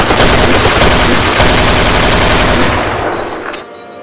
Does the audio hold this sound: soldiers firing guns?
yes